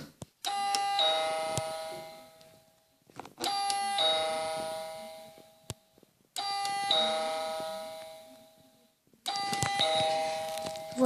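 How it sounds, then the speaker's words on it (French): A toy house's doorbell rings four times in a row, each press giving a bright, chiming ding-dong that rings out and fades before the next, close and clear with no talking. "Donc il y a la sonnette. Je vais vous faire 2-3 fois."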